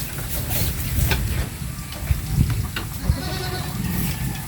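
Goats bleating near their pen in the Philippines, several wavering calls close by amid a busy outdoor background of clatter, knocks and ambient noise, with no one speaking.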